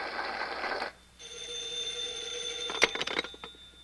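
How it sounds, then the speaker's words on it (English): A telephone rings in a 1948 old-time radio drama, a bright electric bell trilling close and loud for a few seconds, followed by the rattle of the receiver being picked up. "I'll get the phone."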